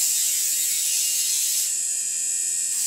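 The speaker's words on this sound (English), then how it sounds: "I can use this sander to smooth that area out." Small sander buzzing against the interior of a metal piece for jewelry work, a steady high-pitched grinding hiss that shifts tone slightly partway through, no talking.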